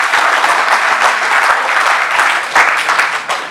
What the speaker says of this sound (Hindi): एक बार आप अपने लिए जोरदार तालियां बजा लें।